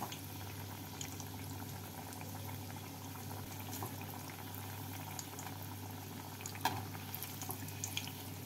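Paneer cutlets deep frying in hot oil give a continuous soft sizzle and fine crackling with occasional pops, low and steady under a constant background hum.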